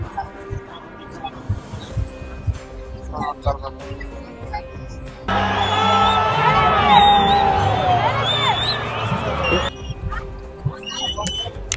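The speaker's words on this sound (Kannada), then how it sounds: "ಎಷ್ಟು ಕ್ರೌಡ್ ಇದೆ ನೋಡಿ, ಫುಲ್ ರಶ್ಶು." A large, dense crowd at the Mysore Dasara drone show, 2024, roars and cheers loudly over music from about five to ten seconds, with quieter crowd murmur before and after.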